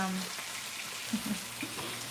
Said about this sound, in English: So keep frying the turkey.